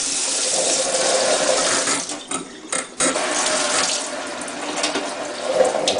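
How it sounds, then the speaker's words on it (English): Cold tap water runs in a low stream over a raw turkey in a kitchen sink, a steady close splashing hiss with brief breaks as hands shift the bird. "With low stream water, I'm basically just rinsing"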